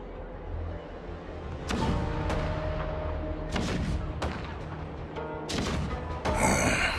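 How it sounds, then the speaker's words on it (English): Heavy cannon blasts from a video game boom out one after another at uneven intervals, each with a rolling rumble, over a low continuous battle din. "The rumble of the cannons."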